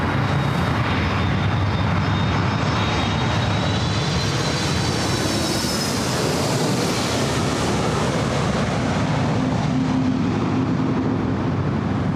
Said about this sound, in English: It's the Delta 767-400ER coming in from JFK.